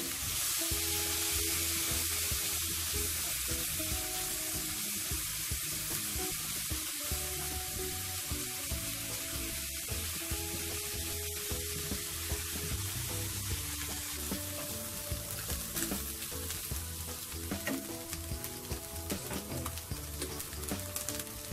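Fish scraps frying in a little oil for tomato fish soup, a steady bright sizzle that crackles and hisses continuously at close range with faint stirring underneath.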